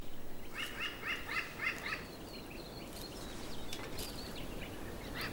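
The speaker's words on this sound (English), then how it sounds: "So here's our good friend, the New Caledonian crow." A New Caledonian crow gives a quick run of short, repeated calls at the start, then sparser chirps against a faint outdoor background.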